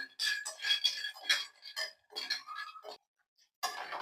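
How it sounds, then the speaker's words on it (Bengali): Peanuts dry-roasting in a pan for a jaggery payesh, stirred so the shells clink and rattle in close, bright bursts, with a short lull near the end before the rattling resumes. "চিনে বাদামটা আমি এখানে ভেজে নিচ্ছি চিনে বাদামটা ভালোভাবে ভেজে নেব"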